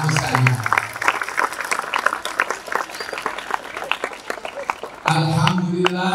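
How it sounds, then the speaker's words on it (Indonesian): An audience at a school competition's opening ceremony claps in dense, sustained applause for about five seconds, with a voice speaking over it at the start and again as it ends. "tepuk tangan untuk anak-anakku sekalian"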